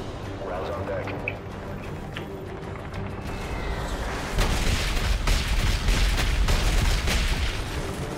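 Artillery rounds firing in Call of Duty Modern Warfare 3, starting with a quieter stretch under radio chatter, then a heavy barrage of booming blasts and rumbling impacts that grows louder and keeps rolling over several seconds.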